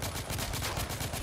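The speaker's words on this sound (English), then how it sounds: "Who the fuck is shooting at me?" Gunfire rattles in The Order: 1886, a quick, steady run of shots that sounds fairly distant and subdued, with no talking.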